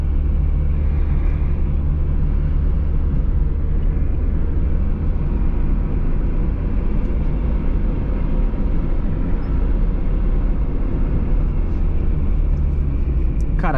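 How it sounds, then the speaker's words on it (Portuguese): A 1997 Fiat Palio ED 1.0 drives along with a steady, dense low engine and road rumble, heard continuously from inside the car, with no clear gear changes. "Agora, eu tô passando aqui com um carro da hora e é diferente"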